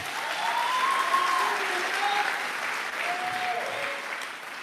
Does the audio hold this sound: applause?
yes